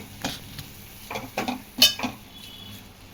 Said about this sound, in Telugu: దీనిలో పసుపు, కారం వేసి ఒకసారి కలబెట్టేసుకోండి